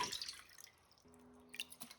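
Tap water poured by the cupful into a small heatable pot for Cuban-style rice, heard as brief, faint splashes and drips at the start and again near the end, with quiet gaps between and no talk.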